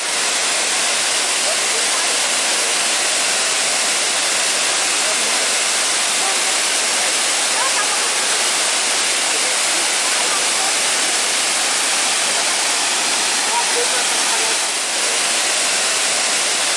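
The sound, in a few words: waterfall, Poço do Diabo, Chapada Diamantina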